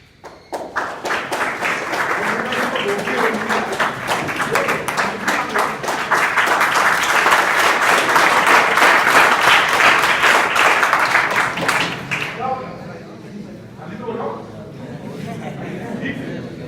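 Students clapping together in a school, a dense burst of applause that holds steady for about twelve seconds and then stops, followed by a person talking.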